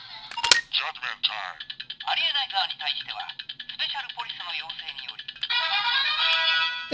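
Electronic chirps, beeps and synthesized voice effects from a Dekaranger SP License toy in phone mode, rapid bursts of tones and warbling calls playing close and loud, ending in a sustained bright buzzing sequence.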